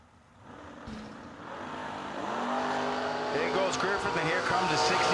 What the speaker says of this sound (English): here comes a 69 Camaro chasing him down